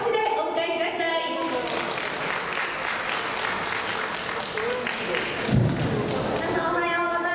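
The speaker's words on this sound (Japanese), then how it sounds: "大きな拍手でお迎えください" An audience at a maternity carnival event applauds to welcome a live singer on stage, steady mid-level clapping from many hands that follows a spoken introduction and runs for several seconds, fading as a voice resumes.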